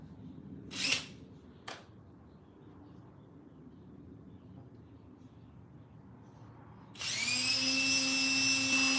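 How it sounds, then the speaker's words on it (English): Two brief clicks or taps sound before a power drill starts near the end and whines steadily, drilling small holes in thin metal taped in place for badge mounting, close and fairly loud. "Don't push down. Let the drill do all the work."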